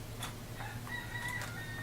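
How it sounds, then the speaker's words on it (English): Rooster crowing faintly in the distance, a brief high call over a low steady hum, quiet and far off. "That is the rooster going off in the background there."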